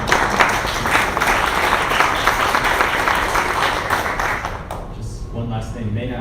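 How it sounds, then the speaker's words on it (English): Dense audience applause at an insurance agency community presentation, steady and loud, with a speaking voice emerging as the clapping fades near the end. "Can you get a round of applause for that?"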